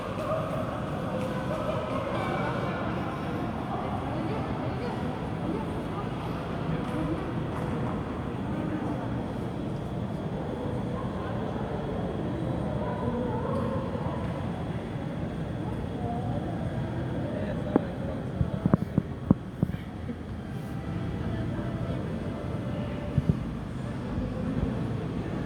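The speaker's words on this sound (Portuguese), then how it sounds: "Tá ali o Papatango Mike Zulu Lima, decolando de Manaus para Guarulhos." An Airbus A320 airliner takes off from Manaus bound for Guarulhos, its engines giving a steady, distant broadband roar that holds throughout, with a few sharp clicks near the end.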